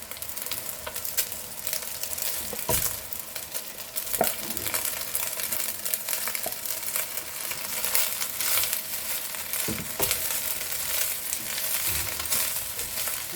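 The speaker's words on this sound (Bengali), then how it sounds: "এবার আমি রান্না করে রাখা ভাতগুলো দিয়ে দিচ্ছি আস্তে আস্তে" Cooked rice is tipped into a frying pan and stirred for paneer pulao, with a steady sizzle under repeated scraping strokes of the spatula and occasional soft knocks against the pan, close and continuous.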